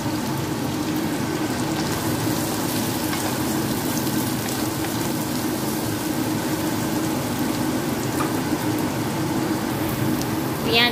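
Chopped onion fries in hot oil with green chillies and garam masala, giving a steady, close, rain-like sizzle that runs unbroken throughout, with no talking over it.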